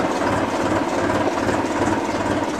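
A New Holland TT3.50 tractor engine runs steadily at idle on a cattle farm, a continuous, fairly loud rumbling drone with no breaks and no talking.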